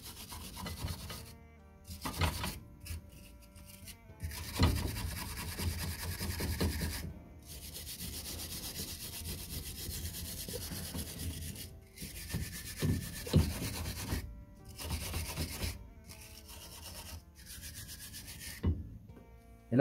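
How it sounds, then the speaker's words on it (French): A metal wire brush scrubs a brake caliper on a Peugeot 208 being prepped for paint, giving long, harsh, gritty scraping strokes in bursts with short pauses, close and steady, no talking. "Je repasse ma brosse métallique."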